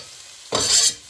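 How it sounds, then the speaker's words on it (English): Chopped onion hits a well-heated pot and bursts into a loud, hissing sizzle that swells for about half a second, then fades back to a quiet background hiss. "So I'm adding the onion. You can hear that it is very well heated."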